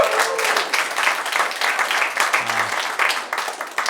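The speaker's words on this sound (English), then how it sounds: "I didn't do it for the applause." Comedy club audience applauding at a stand-up special, a steady dense wash of clapping that holds through, with a brief voice or cheer rising near the middle.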